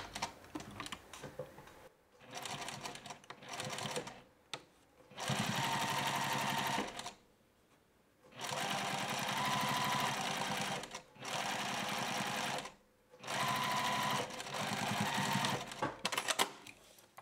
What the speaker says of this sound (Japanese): 先にいらない布で捨て縫いをしておきます。